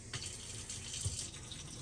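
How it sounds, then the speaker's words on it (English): Water running from a kitchen tap in a partially off-grid woodland cabin, fed from a creek through a filter, a steady faint hiss and splash into the sink for a couple of seconds. "We do have running water, and we have hot water."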